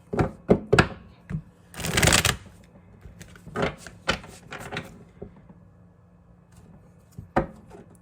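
Tarot cards shuffled by hand in a series of quick riffling bursts, one long loud flurry in the middle, with softer taps and card handling between, close and clear with no talk.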